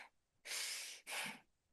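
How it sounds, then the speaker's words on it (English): Two long, airy breaths drawn through the nose during a breathing exercise, each about half a second, close and soft with brief quiet between them. "breathe through our noses like this"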